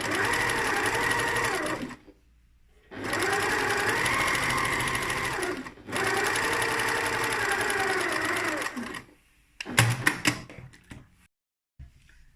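A sewing machine stitches along the edge of a Christmas stocking in three sustained runs, separated by short pauses, ending with a few brief stop-start bursts.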